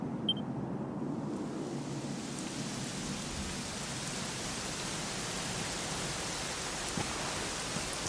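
Rain falling in the Dragon Quest XI video game, a steady soft hiss of downpour that fades in and then holds evenly, with no voices.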